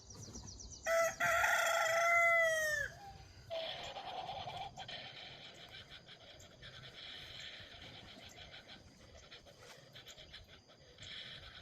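A chicken rooster crows loudly and close with a rising, wavering call, followed by softer clucking and scratching sounds with scattered bird noise in the background, no talk.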